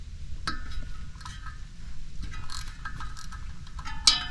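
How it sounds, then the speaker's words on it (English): Small ratchet wrench loosening the 13 mm nuts that hold the fan on a 1998 Jeep Wrangler, heard as faint, quick metallic clicks over a low mechanical background, ending with a sharper clink. "I got a little ratchet wrench to break those loose with."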